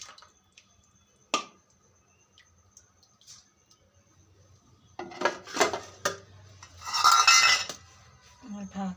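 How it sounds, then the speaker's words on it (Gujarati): Masoor dal being served, with sparse clinks of a ladle and cutlery against dishes, then a busier run of clattering and scraping of utensils toward the end, fairly close. "ચાલો હવે આપણે દાળને સર્વ કરીશું."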